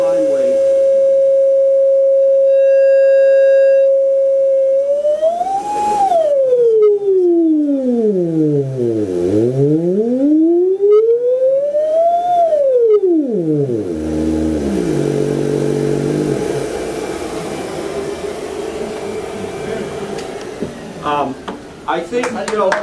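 A newly built auxetophone, a pneumatic amplifier driven by moving plates, plays a loud steady sine tone that then swoops down and up in long gliding pitch sweeps before breaking into a rougher, noisier buzz near the end.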